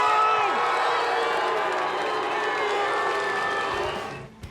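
A large audience at the 2019 Tachi Palace World's Strongest Man final cheers and shouts in a loud, sustained roar of voices, with a whistle-like whoop early on, before fading out at the end.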